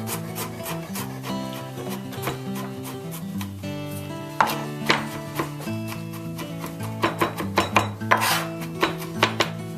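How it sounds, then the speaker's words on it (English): Garlic chopped with a knife on a board, a series of quick close taps that grow sharper and more frequent in the second half, under steady background music. "we're going to chop up this garlic"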